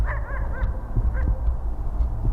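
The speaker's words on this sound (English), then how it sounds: "now the dog is barking" A dog barks somewhere beyond the woods at night, a few short, distant yelps spaced through steady low background rumble, faint and far off.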